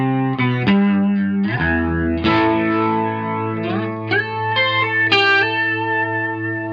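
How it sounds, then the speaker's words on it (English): Clean electric guitar tone run through a Boss MO-2 Multi-Overtone pedal, playing a short melodic lick of single notes and bends with a thick, shimmering doubled quality, steady and close with no talking. "First, here's my clean tone."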